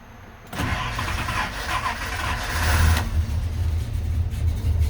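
A Dodge W150 truck with a 360 Magnum engine and new exhaust cranks and fires up quickly, then settles into a loud, rumbling idle close by with a slight swell in revs.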